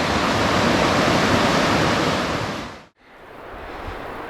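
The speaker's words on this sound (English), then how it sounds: "The wind is blowing up" Strong wind roars steadily across a mountain drainage during a spring bear hunt, loud and broadband for nearly three seconds, then drops abruptly to near silence before resuming as a softer, gusty rush.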